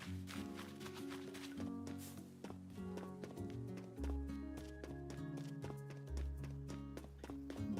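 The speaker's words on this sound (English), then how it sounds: "Oh, I forgot about the little horses here." Little horses in Animal Crossing New Horizons clip-clop in a quick, light rhythm over a cheerful game music track, loud and close with no talk.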